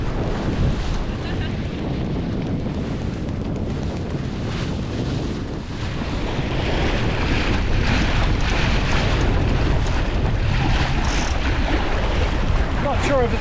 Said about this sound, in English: that's quite a big wave fetch coming through, with winds to not really match